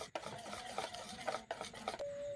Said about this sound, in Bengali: এরপর ভালো করে একটু মিশিয়ে নিচ্ছি